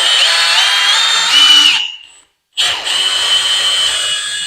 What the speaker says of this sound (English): And now we're going to start trying to drill it out at medium speed with light pressure.